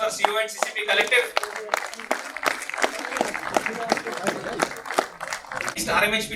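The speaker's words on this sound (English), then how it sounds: "Please give a big round of applause for CO and CCP Collective." A crowd at a steel plant's National Safety Day celebration claps for a department collective, scattered clapping running under an announcer's voice throughout.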